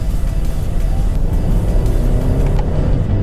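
Steady low engine drone of a 2013 Scion FR-S sports car cruising gently, a continuous rumble with mild road noise and no sharp revving, heard alone without talk.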